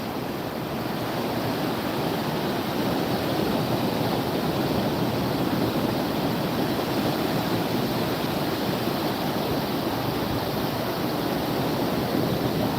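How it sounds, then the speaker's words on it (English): Ocean surf rolls in at Daytona Beach, Florida, a continuous broad wash of breaking waves heard up close and loud with no pauses and no talking. "Just gonna let you guys listen to the waves."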